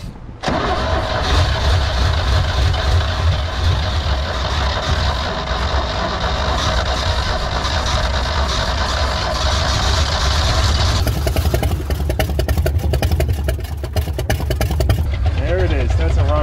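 An old 1965 Jeep's Buick Dauntless odd-fire V6, long left sitting, fires up and runs steadily with a loud, uneven, lumpy idle. A brief change in tone comes near the end.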